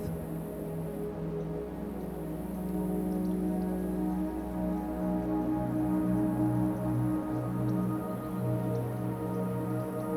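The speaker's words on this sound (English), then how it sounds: "surrounded by the sound of the rain on the glass" Steady rain patters and drips against glass, a continuous close wash of droplets with a low background hum and no voices.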